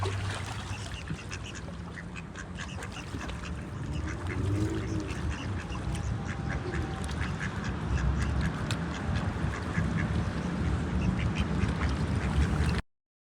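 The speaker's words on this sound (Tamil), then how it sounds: "அந்த குஞ்சு வாத்து பாருங்க எப்படி மேயுது பாருங்கள்" Ducks and ducklings foraging on the water near Chapel Bridge in Lucerne, Switzerland, with soft quacks and dabbling sounds scattered through steady outdoor ambience and a faint low rumble, moderately distant and continuous.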